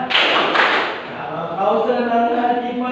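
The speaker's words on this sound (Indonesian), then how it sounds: "Kalau kau senang hati tepuk tangan." A class of pupils claps hands together during a children's action song in a teaching session, a couple of sharp claps up front followed by a sung voice carrying on.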